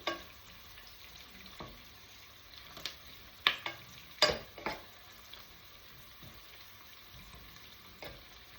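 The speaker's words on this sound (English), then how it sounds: "Onions are frying quite nicely." Quiet, steady sizzling of onions frying in a pan, broken by a few sharp clicks and scrapes of stirring.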